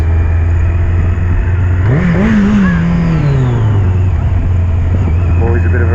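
A Yamaha XJ900 Diversion motorcycle engine, fitted with upjetted carburettors, idles close by, then gives one quick rev that rises and falls back to idle while a voice talks over it.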